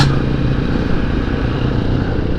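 Motorcycle cruising on a leisurely joyride under overcast skies, its engine droning steadily and loudly close by with constant road and wind rumble, no voices.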